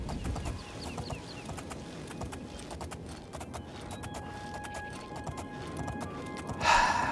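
Horse hooves clip-clopping in a steady trotting rhythm in the video game Oblivion, fairly quiet and close, with a brief louder burst near the end that may be a snort or whinny; no talk.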